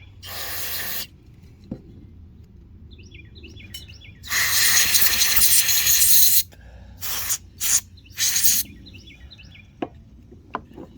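Several hissing aerosol cleaner spray bursts on a plastic Bolens 450e carburetor, one long and a few short, close by, with faint bird chirps in the quiet gaps.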